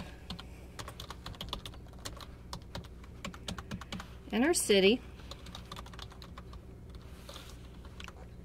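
Rapid clicks of a computer keyboard as someone types into an online registration form, light keystrokes throughout with a brief stretch of talk in the middle.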